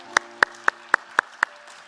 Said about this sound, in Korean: 성령님께 우리 감사의 박수 올려드리겠습니다